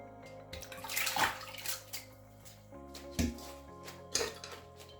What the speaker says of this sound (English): Rinse the corn of preservatives.